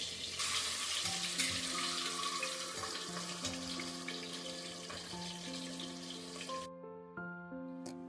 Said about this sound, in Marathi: आता इथे मसाल्यात मॅरिनेट केलेले अंडी फ्राय करायला घेऊया.